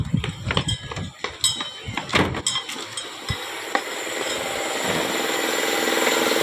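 A Nissan Sentra engine starts and settles into a steady idle after a new starter is installed, preceded by clanks and knocks of work around the car.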